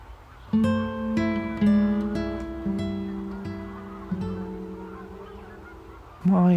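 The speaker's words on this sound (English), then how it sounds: "These Egyptian geese seemed indifferent to the other waterfowl as they fed in the morning light" Egyptian geese at a Normandy lagoon in the morning give a series of loud, nasal honks, about seven calls spread unevenly over several seconds, close by with a quiet outdoor background.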